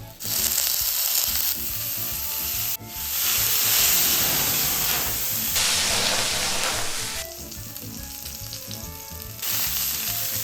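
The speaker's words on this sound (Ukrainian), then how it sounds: "Спочатку обсмажуємо наші великі печериці. Не сильно розігріту пательню ми додаємо олію, а потім додаємо наші печериці." Steady loud sizzling of large button mushrooms frying in oil in a moderately heated pan, with brief gaps and shifts in intensity as they cook, no voices.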